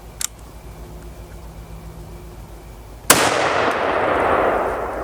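A single loud rifle shot from a Stevens 334 firing .308 Winchester 150 grain PowerShock, a sharp blast with a long reverberant tail after a quiet stretch of outdoor background.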